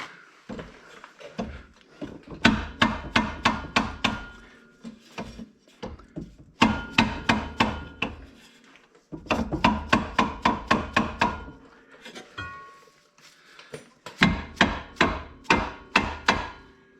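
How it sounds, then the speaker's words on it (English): A soft dead blow hammer strikes a clutch part on a Kawasaki in bursts of rapid, dull, thudding blows, four rounds of several hits each separated by brief pauses, with no talking. "we have a nice soft dead blow hammer"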